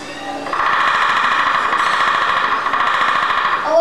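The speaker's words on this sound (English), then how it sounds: "A woodpecker." A woodpecker drums in a rapid, steady rattle that holds for about three seconds at close range, played during a bird-sound game at Busch Gardens.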